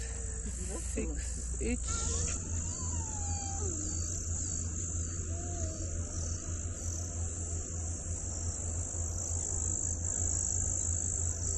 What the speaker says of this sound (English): I'm still trying to figure out what insects make these noise, make these sounds.